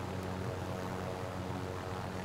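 A helicopter in the video game Call of Duty Warzone, a steady droning engine and rotor hum held at an even level throughout, with no talk over it.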